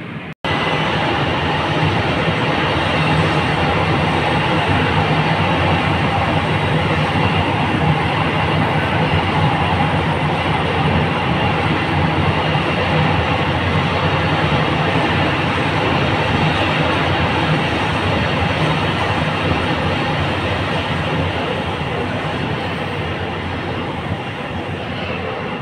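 An LRT Jabodebek light rail train passes close by with a steady, loud rumbling roar. The sound holds evenly for about 25 seconds with no talking.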